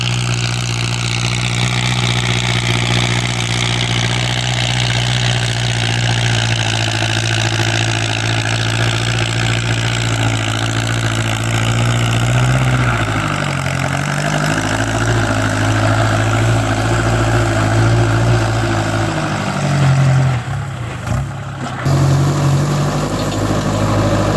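A Kubota L5018 tractor engine runs loudly and steadily throughout while plowing straw into the soil, with a deep, throbbing idle and a brief dip and rise in revs near the end.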